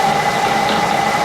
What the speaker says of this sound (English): we want to be running this up around 1600 RPM